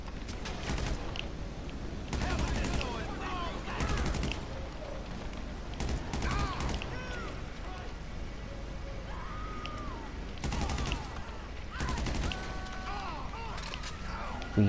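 Bursts of gunfire in GTA 5 Online ring out repeatedly in uneven volleys across a steady game-sound bed, with rapid crackling shots at intervals.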